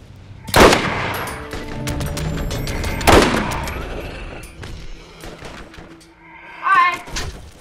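Chain gun fire in the video game Borderlands, with two loud bursts of rapid gunfire separated by quieter mechanical and explosive game noise, and a late rise in sound near the end.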